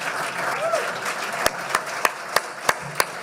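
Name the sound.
audience applause at presidential debate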